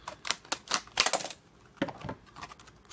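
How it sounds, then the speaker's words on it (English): Tin snips cut through mail packaging in a run of sharp, crisp snips and crunches, close and clear, with brief pauses between bursts and no talking. "this is why we have tin snips"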